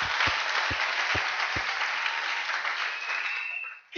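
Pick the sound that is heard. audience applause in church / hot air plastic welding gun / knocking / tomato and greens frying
audience applause in church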